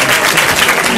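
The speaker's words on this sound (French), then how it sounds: "que je vous demande d'accueillir sur vos applaudissements" An audience at a graduation ceremony applauds to welcome the director of studies, a dense, loud and continuous wash of clapping from many hands.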